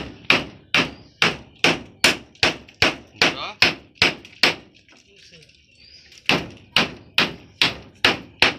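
Close, loud hammer blows on metal, roughly a dozen in steady rhythm, knocking out iron during a patch-up repair of a poor, broken-down house; a pause of about a second and a half, then the blows resume at the same pace.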